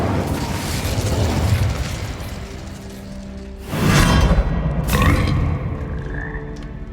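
Incendio fire spell cast in Hogwarts Legacy, two loud fiery bursts with a whooshing roar in the middle of the clip, over a steady low game background.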